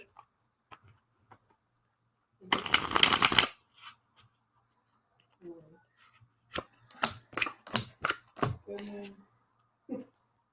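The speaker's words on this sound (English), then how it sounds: "3 cards for Jerome" Tarot cards being shuffled in one short close riffle, then a series of sharp card snaps and taps as cards are laid out, with quiet gaps and brief talk.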